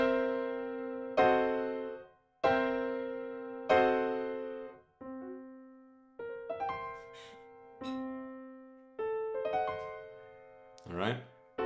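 Boogie woogie piano intro played alone on keys, a sequence of bright struck chords and rolling bass notes with a walking rhythm, ringing and decaying between hits, with a quick run near the end.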